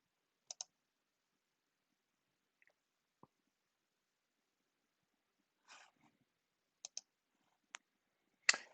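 Mouse clicks while setting up a computer admin console, heard as a few sparse, faint, sharp clicks that come singly and in quick pairs in a quiet room.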